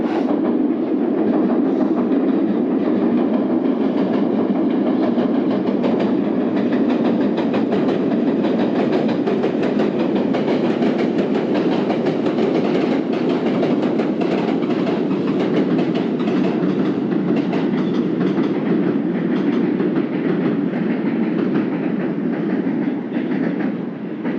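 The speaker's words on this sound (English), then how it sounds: "I can see a train crossing the river" Train crossing a river bridge in Hiroshima, a steady, unbroken rolling rumble with faint clatter of the wheels, heard from a distance and continuing throughout without any talking.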